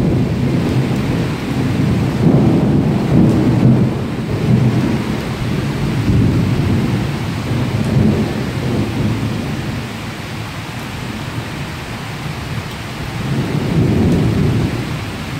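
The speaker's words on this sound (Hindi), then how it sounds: "तेज़ बिजली जो है वो चमक रही है और कड़क रही है," Thunder rolls and rumbles through heavy rain during a storm in Karachi, with deep swells of thunder rising and falling over a continuous loud downpour.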